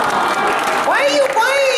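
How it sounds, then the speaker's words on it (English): Audience at a theater convention panel applauding and oohing, a broad wash of clapping with rising voiced ooh tones over crowd murmur, close and steady throughout. "Why are you clapping and oohing at partner?"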